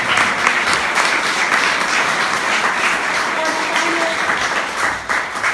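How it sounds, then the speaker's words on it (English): Steady round of applause from the audience at a literary reading night for writers and readers, a full continuous wash of clapping with a faint voice briefly underneath. "Let's give all of our writers and readers one more round of applause"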